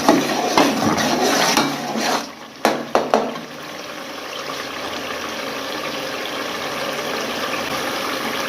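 Boiled chickpea cooking water poured into a pan of masala for Gujranwala-style white chana chole, a loud splashing pour with a few clanks in the first seconds, then a steady hissing sizzle and bubbling that continues alone.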